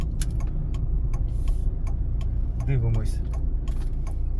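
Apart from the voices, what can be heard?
car right turn indicator ticking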